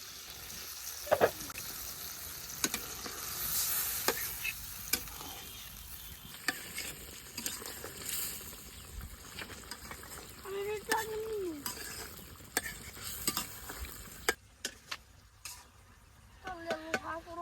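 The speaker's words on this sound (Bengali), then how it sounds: "মাছটা খুব ভালোভাবে কষে নিচে" Boal fish curry stir-fried in a pan, a faint sizzle with scraping stirs and clinks beneath a person talking.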